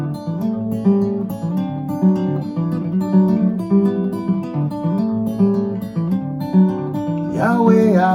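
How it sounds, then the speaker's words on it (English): Ghanaian finger-style guitar picked with thumb and index, a steady, busy flow of overlapping plucked notes and bass thumb patterns, loud and close, with a brief slide near the end and no voices. "I'm playing the Ghanaian finger style"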